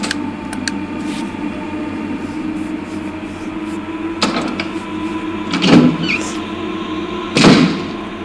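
A door creaks and thuds open in the survival horror game Resident Evil, with two dull, heavy knocks of wood landing a couple of seconds apart over a steady low ambient hum, fairly close and moderately loud.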